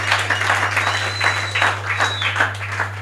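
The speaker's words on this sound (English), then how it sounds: "Clap your hands for Jesus." A church congregation claps hands for Jesus in a steady, fairly loud wash of clapping over a constant electrical hum, with faint voices mixed in.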